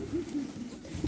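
Sütbeyaz tumbler pigeons cooing close by, a few soft low warbling coos running together over a brief moment, with faint background noise.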